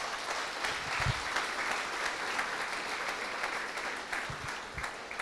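A church congregation at a Spanish-language service applauds together, a dense, steady clapping that fills the whole stretch with a few sharper claps standing out.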